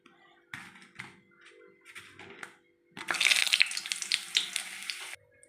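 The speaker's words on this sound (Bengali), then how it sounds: "ওই তেলেই আমি কটা পাঁপড় ভেজে নেব।" Papads frying in hot oil left from frying potato pakoras, a dense crackling sizzle that bursts up loudly midway and runs for a couple of seconds, preceded by softer scattered cooking clatter.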